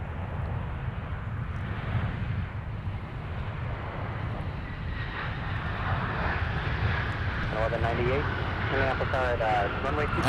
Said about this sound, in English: Delta 171 now out of here for Seoul.